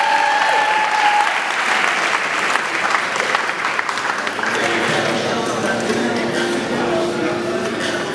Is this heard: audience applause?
yes